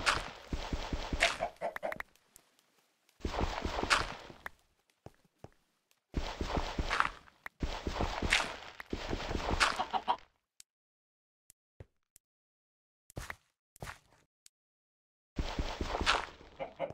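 Chickens in the video game Minecraft cluck in short repeated bursts, several separate clusters of clucks with brief footstep-like ticks in the quiet gaps between them, fairly close and clear, with no talking.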